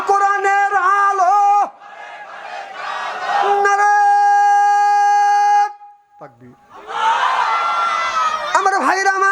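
A large crowd at a Bengali Islamic sermon gathering roars Allahu Akbar back to a takbir call. Loud, sustained massed shouting comes in repeated waves, with brief gaps between them.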